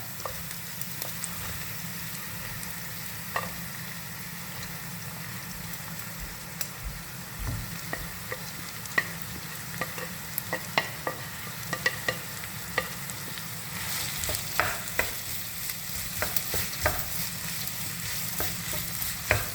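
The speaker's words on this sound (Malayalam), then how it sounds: "നല്ലോണം വഴണ്ട് കിട്ടട്ടേട്ടാ വഴന്ന് നല്ലോണം വരട്ടേട്ടാ" Sliced onions sautéing in curry-leaf oil for Kerala-style rabbit roast, a continuous sizzle broken by frequent spatula scrapes and clinks on the pan, busier toward the end, with no talking.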